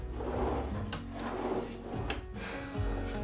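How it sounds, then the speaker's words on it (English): Push-to-open drawer slides in a tiny house being built for off-grid living, operated repeatedly, giving a string of close wooden thumps and sliding rattles with short pauses between them and no talking. "these drawer slides that I use, they're like these push-to-open drawer slides, and they jam so easily"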